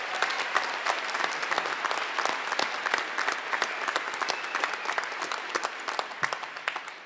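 A full crowd of graduates and guests at a winter commencement claps together, the sustained, evenly textured applause filling the hall without a break for about seven seconds.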